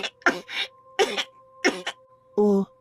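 A person coughs in several short, sharp bursts with brief pauses between them, close and clear, ending with a longer, rougher throat-clearing cough.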